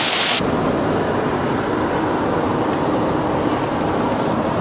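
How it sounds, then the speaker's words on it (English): A car drives through a small storm just east of Lubbock, Texas, with a steady, loud broadband roar of road and rain noise throughout and a brief louder burst at the very start; no voices. "Driving through a little storm"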